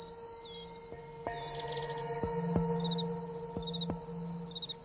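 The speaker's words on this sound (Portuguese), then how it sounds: "Os grilos também têm longas antenas que usam para sentir o mundo à sua volta." Crickets chirp steadily in a garden setting, a continuous high trilling pulse carrying through the whole stretch, with a few sharp clicks and rustles close by; no one speaks.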